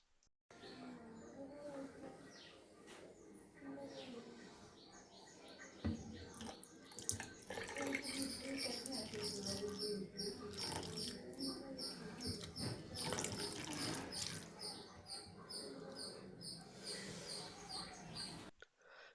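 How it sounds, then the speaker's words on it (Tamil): Comfort fabric softener is poured into the dispenser of an LG washing machine, a steady close trickle and splash of liquid running for several seconds after a quieter start. "அதில் கம்ஃபர்ட் மிக்ஸ் பண்ணி அதில் ஊற்றிடணும்."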